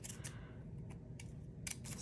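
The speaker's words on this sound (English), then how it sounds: "I like to just cut that little tip off like that." Metal-free craft scissors snip through paper while cutting a fringe for paper feathers, giving several short, crisp snips spaced irregularly, fairly close and alone over a faint low hum.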